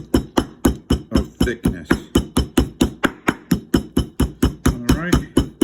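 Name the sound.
meat mallet tapping chicken breast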